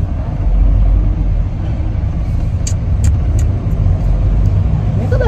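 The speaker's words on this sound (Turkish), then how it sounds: "Çöp kamyonu tam önümüze ortaya durdu" Heavy road traffic rumbles continuously close by as a garbage truck sits stopped in the middle of the road ahead, with a few short, sharp hissing bursts near the end, like air brakes.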